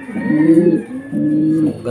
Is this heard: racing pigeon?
yes